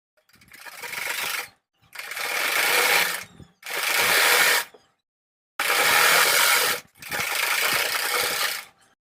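Sewing machine stitching lace onto a fabric strip for a kurti neckline, running in five close bursts of rapid whirring separated by short pauses.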